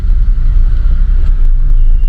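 Steady road traffic rumbles on a busy stretch between Srinagar and Gulmarg in Kashmir, with engines droning continuously and a few faint high beeps over the low wash of vehicles.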